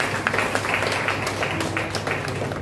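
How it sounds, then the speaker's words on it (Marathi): Clapping from a gathered audience at a Chaitra Purnima and Emperor Ashoka Jayanti event, a dense, steady patter of many hands that stays fairly close and even throughout with no voices. "जोरात टाळ्या होत्या."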